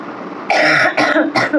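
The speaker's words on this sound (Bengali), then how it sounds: "কাশিটা কমছে না, কিছুতেই কাশি কমছে না" A person coughs three times in quick succession, close and loud, each burst short and harsh.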